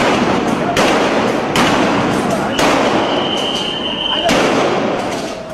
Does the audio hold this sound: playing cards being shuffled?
no